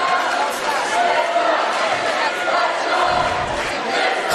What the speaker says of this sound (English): Crowd is loud, looking to get louder.